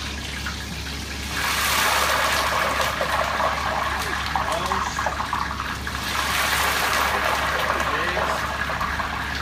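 Torrija bread soaked in crème anglaise is dropped into hot oil and starts to fry, giving a loud, steady sizzling hiss that swells after a quiet start and continues to the end.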